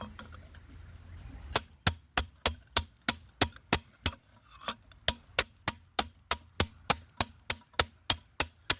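A hammer strikes a giant geode rock again and again to crack it open: sharp, loud, ringing knocks in a fast steady rhythm after a few scattered hits, heard up close.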